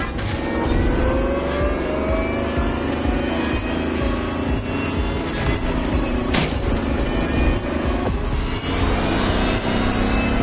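Lamborghini Terzo Millennio driving in the video game The Crew Motorfest, a loud continuous engine drone with whining tones that rise and fall, sustained throughout without talk.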